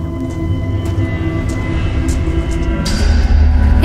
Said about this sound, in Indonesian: khawatir akan ada kereta api yang lewat